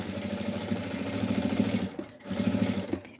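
A sewing machine stitches fabric for a cutlery holder, its motor buzzing in a fast steady run that stops briefly near the end and then resumes, with no talking.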